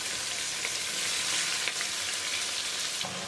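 Marinated bottle gourd and onion frying in a hot pan for lauki do pyaza, a steady dense sizzle throughout, loud and close, with no talking.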